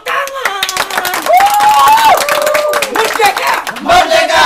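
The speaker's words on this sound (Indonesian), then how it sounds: "Tepuk tangan!" A crowd at an Indonesian Independence Day (17 August) community event claps hands in quick bursts while loud shouting and cheering voices ring over the clapping.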